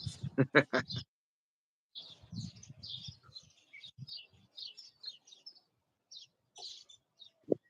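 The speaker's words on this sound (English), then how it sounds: "I got some laser birds out here this morning" Birds call outdoors on a morning, giving bright, laser-like chirps and tweets in quick bursts with short pauses, near and fairly loud, over some low murmuring background.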